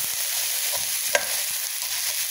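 Noodles and pork stir-fry in a pan, giving a dense, bright sizzle with scraping stirs and one sharp clack from the utensil.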